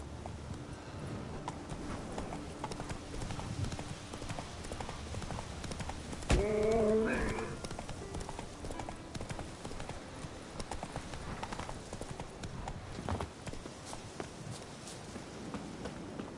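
Horse hooves clop steadily in The Witcher 3 as the mount is urged forward, a continuous close rhythmic clatter over game ambience, with a brief louder burst of other sound partway through.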